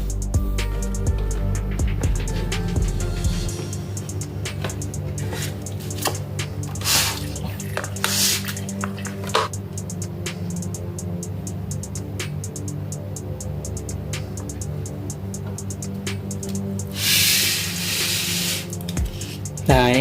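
Water runs and splashes steadily while a tank for a channa fish with fin rot is washed, a loud, continuous gushing with brief clattering knocks over a persistent hum.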